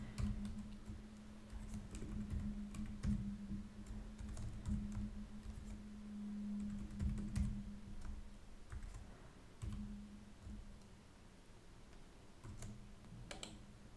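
Fingers type a password on a computer keyboard, producing irregular bursts of close clicks and key taps with short pauses between them, over a faint low hum.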